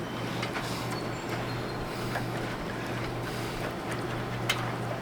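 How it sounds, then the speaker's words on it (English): A repaired Suburban RV furnace blower runs with a steady low hum and constant airy whoosh, a continuous even drone heard close with a few faint clicks and knocks, no voices. "I'll get the blower wheel back on and we'll fire it up and see how it sounds."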